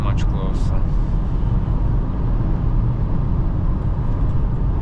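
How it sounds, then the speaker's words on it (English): Steady road and tire roar inside a 2026 Kia Sportage 1.6 T-GDI AWD cruising at 120 km/h, a loud, even low rumble with wind hiss and no break. "I can hear much more noise now. I'm driving 120 km/h from this side."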